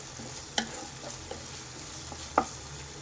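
Ginger garlic paste frying in a pan for butter dal fry, a soft, low hiss with a few light spatula clicks and scrapes, fairly faint and close.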